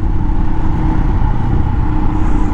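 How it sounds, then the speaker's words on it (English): A Royal Enfield Himalayan motorcycle rides along a road, its engine holding a loud, steady mid-pitched drone with constant rumbling and wind rush, no voices over it. "Nice day for a motorcycle ride."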